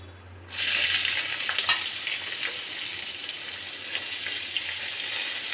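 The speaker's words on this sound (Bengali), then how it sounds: "সবজিগুলো সব দিয়ে দেব হালকা ভেজে নেব" Chopped garlic, carrot and beans drop into a hot pan and burst into a loud, steady sizzle that carries on without pause, with no talking over it.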